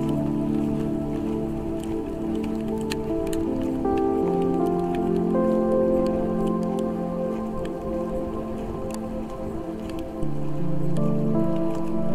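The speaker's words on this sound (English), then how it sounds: "it is very windy and getting rainier by the second" Rain falls outdoors in strong wind at a park, a steady wash of drops mixed with low tonal rumble and gusts, continuous and fairly soft with no talking.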